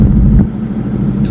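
A car engine idles steadily just after starting, a low continuous rumble close by with a slight dip in level partway through.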